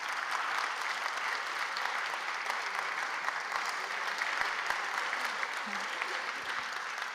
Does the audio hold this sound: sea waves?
no